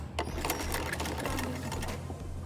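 A sewing machine stitches down the folded-in piping on a kurta, a steady fast mechanical whirr with light clatter, close and continuous for a couple of seconds.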